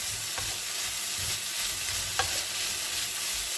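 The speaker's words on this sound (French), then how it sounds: "Et on va mélanger, histoire qu'elle s'imprègne elle aussi du goût." Potatoes being stirred as they fry in a pan, an even close sizzle with a couple of spoon scrapes and taps against the pan, no voices.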